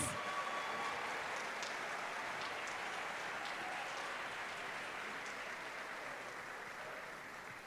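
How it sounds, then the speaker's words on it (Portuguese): A church congregation applauds steadily, a dense wash of many hands clapping that holds for several seconds and then gradually fades. "Vamos recebê-la com a salva de palmas?"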